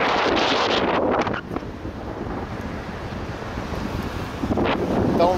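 Wind blowing hard across a microphone on a seaside deck, a steady broadband roar with gusts swelling at the start and near the end, surf faintly beneath.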